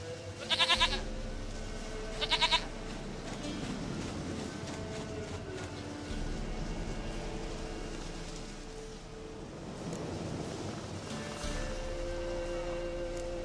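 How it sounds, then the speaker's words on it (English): A goat bleats twice in The Witcher 3, two short nasal cries near the start over a low, steady ambient drone that continues to the end. "Goat of mine, dearest,"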